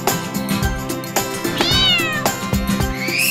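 A cat meows with a rising, drawn-out cry over a busy musical backing with steady beats; a second shorter meow follows near the end.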